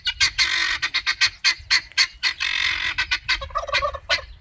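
A baby poultry chick in a bucket calls in a rapid run of loud, shrill peeps, nearby and with no other sound.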